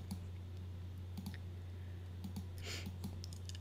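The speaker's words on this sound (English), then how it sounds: "So again, I'm just clicking and dragging" A computer mouse clicks sharply and sparsely while working in Photoshop, single and double taps scattered across a quiet room with a steady low hum underneath.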